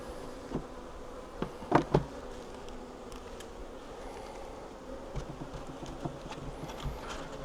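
Honey bees buzz faintly around an open hive, a soft continuous hum punctuated by a few sharp knocks and clicks from frames being handled.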